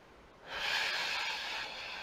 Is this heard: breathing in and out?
yes